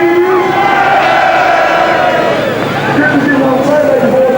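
Crowd cheering at an indoor tractor pull, a loud sustained roar of many voices with rising and falling yells.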